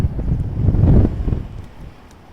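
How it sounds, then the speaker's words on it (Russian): Strong wind buffets an outdoor microphone in low, rumbling bursts that swell toward the one-second mark and then ease into a softer, steadier rush, with nobody talking. "Сильный ветер."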